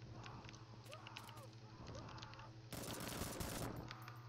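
Rapid gunfire in a Roblox shooter set in Kandahar, Afghanistan, faint bursts of shots over a steady game hum, with a louder dense volley near the end.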